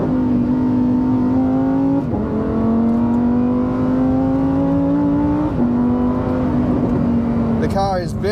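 A 2023 Lamborghini Huracan STO in Trofeo mode accelerates hard, its engine note climbing loudly through rising revs, broken by two quick gear shifts, then a brief burst of rapid higher-pitched sounds at the very end, heard from on board.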